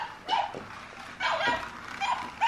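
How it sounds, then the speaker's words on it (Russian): A small dog at home barks and yips in several sharp, separate bursts, close by and fairly loud in a quiet room. "Собака, да."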